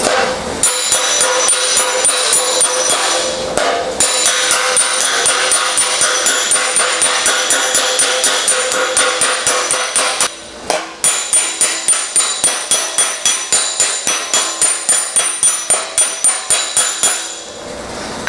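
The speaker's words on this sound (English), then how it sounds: "let me go ahead and hammer some of these out" Rapid, evenly spaced metallic hammer blows with a slapper strike a welded metal panel while planishing the welds, loud and close, continuing for many seconds with only a brief pause.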